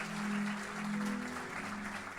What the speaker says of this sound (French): Est-ce qu'on peut applaudir le Seigneur pour les vies